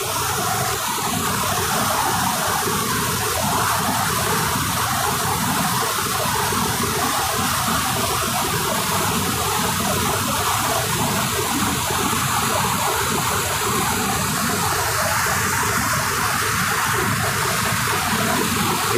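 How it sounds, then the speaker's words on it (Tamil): The Kozhikkarai river rushes heavily at its last stretch before forest, a loud, continuous broadband roar of flowing water with no pause, heard close up and without voices. "கோழிக்கரை ஆறோட கடைசி பகுதிக்கு வந்து நின்றுருக்கேன். இங்கே வந்து தண்ணி பயங்கரமாக போகுது."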